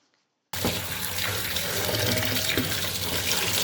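Tap water runs steadily into a sink while fish pieces are washed, a full continuous splashing rush that starts abruptly after a brief silence and stays close and loud throughout.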